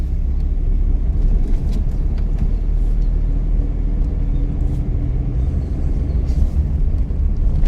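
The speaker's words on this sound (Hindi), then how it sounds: "रेस दो, आरपीएम बढ़ जाते हैं गाड़ी के।" A car engine revs with the clutch pressed, a steady loud low rumble holding throughout with no talk.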